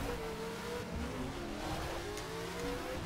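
Three motorcycles racing together in The Crew Wild Run, their engines droning and revving loudly and continuously, close up with no pauses.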